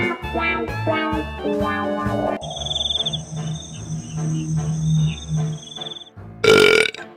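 A long, loud, drawn-out croaking burp after a pre-dawn Ramadan meal of instant noodles rumbles over several seconds, followed by a short sharp burst at the end.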